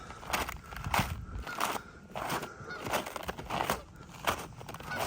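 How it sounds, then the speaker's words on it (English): Repeated honking calls of Canada geese ring out in short bursts at a moderate distance, over steady outdoor background noise. "the 2 Canada geese that have been hanging out here for the past, I don't know, 2 or 3 months"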